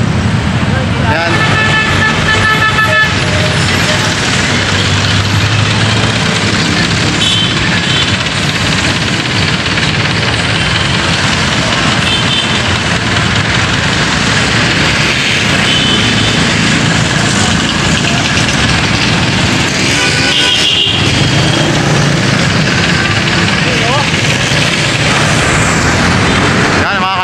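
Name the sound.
road traffic at night, trucks and horns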